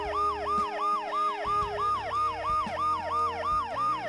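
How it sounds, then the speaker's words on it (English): A loud, close ambulance siren wails in a fast repeating rise-and-fall pattern over a low engine rumble in the game Dead Synchronicity, continuous and dominant throughout. "The ambulance's siren is making an infernal noise."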